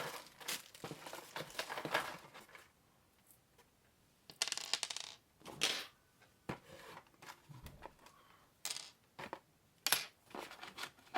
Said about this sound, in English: Oh, there goes another bolt. Hinge pin bolt.